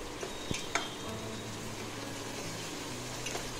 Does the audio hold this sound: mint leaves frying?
yes